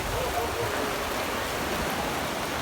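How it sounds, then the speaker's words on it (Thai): Heavy rain pouring down on a mor lam music troupe, a dense, steady roar of falling water that fills the whole moment, loud and close with no clear voices. "คาดสิได้เลยมันฝนตก"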